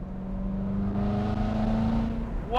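Engine of a 2015 Corvette Z06 pulling on a street, a close, steady, moderately loud drone whose pitch rises slightly over a couple of seconds, with no talking.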